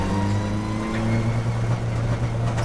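Race cars in a Fun Cup endurance race at Oulton Park entering the pit lane, a steady low engine drone with a sustained mid-pitched tone and slight rises in revs, heard at a moderate distance behind an even background roar.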